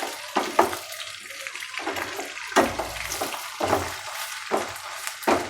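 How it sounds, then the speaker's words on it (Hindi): Ginger garlic paste being sautéed in a pan for masala kalegi, soft sizzling punctuated by irregular scraping and stirring knocks of a spoon, close, with no talk. "1 से 2 मिनट अदरक लहसुन के साथ इसको ठीक तरह से भूनिएगा।"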